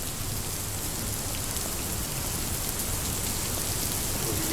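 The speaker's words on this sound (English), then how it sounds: "Looks like we're going to get a little bit of rain here from our weather system." Steady rain from the weather system of a game set on an Aztec island, a dense, constant hiss of falling drops, loud and unbroken throughout.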